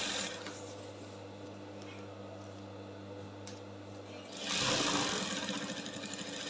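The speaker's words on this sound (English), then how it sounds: "So we are done with the stitching right here." A sewing machine stitches a bubu kaftan with a steady, even motor hum that stops abruptly near the end, followed by a louder rustle of handling fabric.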